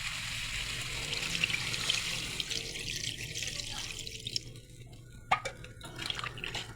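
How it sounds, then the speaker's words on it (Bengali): Water poured into Bengali fish curry in a pan, a close trickling splash and pouring gurgle that tapers off, followed by a few clinks. "এবার আমি জলটা দিয়ে দেবো।"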